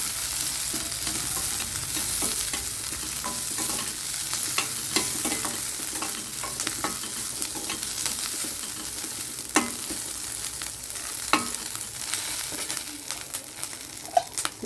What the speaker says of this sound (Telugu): జీలకర్ర వేసేసుకొని ఒకసారి బాగా వేగనివ్వండి